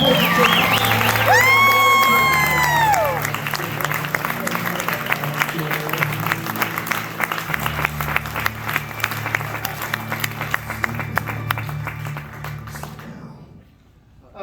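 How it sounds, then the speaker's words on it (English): A large audience applauds loudly and steadily, mixed with cheers and whoops; the clapping fades out near the end. "Big round of applause."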